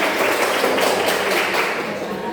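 A class of eighth-grade students at a junior high school claps together, loud and close, a brisk uneven patter of many hands lasting a couple of seconds.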